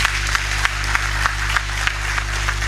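Scattered hand claps ring out at a steady pace, sparse and fairly loud over a low hum, more like a handful of people clapping than a full crowd.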